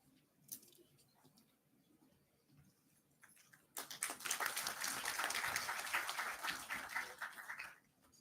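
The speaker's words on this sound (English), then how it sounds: "Let's have a huge round of applause for Sir." After a few faint scattered claps, an audience at a college ceremony breaks into a burst of applause lasting about four seconds, moderately loud, then stops abruptly.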